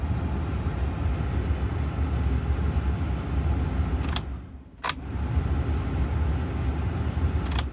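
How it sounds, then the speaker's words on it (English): A car's blower motor runs with a steady, faint whirring hum. Midway it cuts out briefly with a couple of clicks, then starts up again and continues. "at least I can have a peace of mind knowing that the blower motor is clear"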